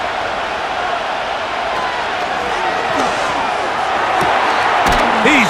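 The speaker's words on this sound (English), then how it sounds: "What about this crowd getting even louder before 3rd and 10?" Stadium crowd roar from a Madden NFL 25 simulation of the Tennessee Titans vs Houston Texans, a steady dense wash that swells slightly louder toward the end, with occasional sharp thuds and bursts in the mix.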